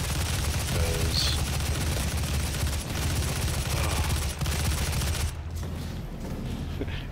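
Sustained gunfire in a DOOM SnapMap level as a weapon pounds a pole: steady, loud, continuous shooting over a low rumble, ending in a softer tail near the close.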